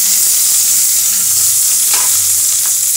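Chopped beetroot, cumin seeds and curry leaves frying in a pan, giving a steady close sizzle with a few soft stirring scrapes, alone.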